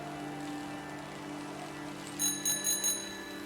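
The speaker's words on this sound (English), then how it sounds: "They gave me a bell. That was a mistake." Bell in the game Season: A Letter to the Future rung four times in quick succession, bright clear dings near the end over a steady humming ambient background.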